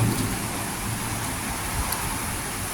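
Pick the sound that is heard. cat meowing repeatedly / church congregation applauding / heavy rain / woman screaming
heavy rain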